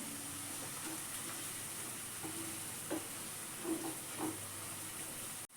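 Green garlic sizzles and fries steadily in a pan for a winter fresh-turmeric curry, a continuous hiss with a few soft stirring scrapes partway through and no talking.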